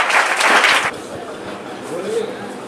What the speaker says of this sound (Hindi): एक बार जोरदार रवि सर के लिए ताली